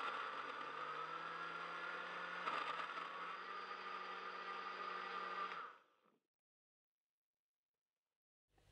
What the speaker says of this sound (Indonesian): Sekarang kita blender singkongnya sampai halus.